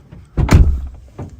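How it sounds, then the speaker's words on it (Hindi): A car door closes with a single solid thunk after a brief softer rustle, followed by a fainter knock a moment later, close and short with no talk. "बस दरवाज़ा बंद कर दो।"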